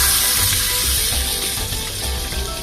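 Onions frying in a pan with spicy garlic pork, a steady loud sizzle and hiss that runs unbroken throughout, close and without any talking.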